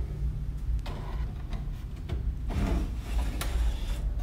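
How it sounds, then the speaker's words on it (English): Solid wood drawers in a manufactured home sliding open and shut, giving close wooden rubs and scrapes with a few light knocks spread over several seconds. "Let's check out the drawers."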